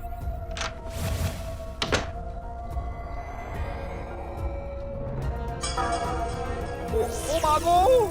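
A door is pushed and banged with a couple of sharp, hollow thuds early on, followed by lighter knocks and shuffling in a quiet room while people talk.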